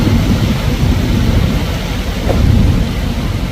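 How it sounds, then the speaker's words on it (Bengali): Torrential downpour with thunder on a dark afternoon, a dense steady roar of heavy rain with low rumbling throughout, fairly loud and without speech. "বৃষ্টি শুরু হয়ে গেছে মুসলধারে আজকে বৃষ্টি হচ্ছে আবার"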